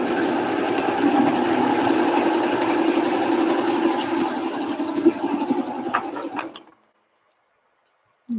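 Serger sewing machine stitching knit fabric for flared pants, its knife set closest to the needles; a steady, loud mechanical whir runs for about six and a half seconds, then stops abruptly, with a brief knock at the very end.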